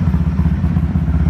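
A Honda CB300 motorcycle idles steadily up close, its low engine throb loud and even with a faint mechanical clatter, and no voices over it.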